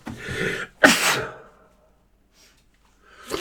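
A single loud, close sneeze bursts out sharply after a brief intake of breath during a bedtime story reading, followed by quiet and then the start of further sound near the end.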